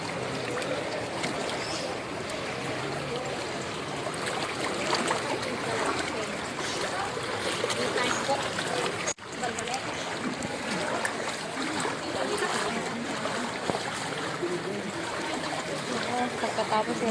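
River floodwater from a typhoon rushes and churns steadily nearby, a continuous broad watery roar that holds its level throughout, with people talking over it.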